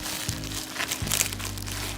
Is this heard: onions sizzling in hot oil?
no